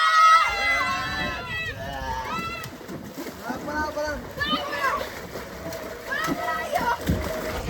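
Children splash and dive into a water-filled tub outdoors on a hot day, with bursts of sloshing water mixed with their excited shouts, squeals and chatter throughout.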